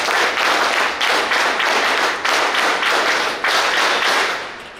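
An audience at a community alcohol de-addiction camp programme in Mangaluru applauds loudly and steadily, the clapping rising in waves and tapering off at the end.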